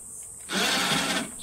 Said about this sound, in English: I can tell by the grunt of the motor lifting these 2 supers that they are nearly full of honey.